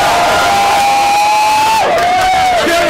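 Crowd noise at a rap battle event in Halifax, a steady loud wash of cheering and whooping filling the whole stretch with no pause.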